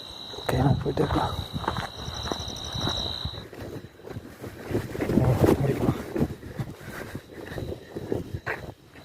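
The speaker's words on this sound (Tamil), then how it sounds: "காற்று சவுண்டு பயங்கரமாக இருக்குது" Strong wind rushes through a forest in a loud, uneven roar that buffets the microphone, with a thin insect drone and someone speaking at times.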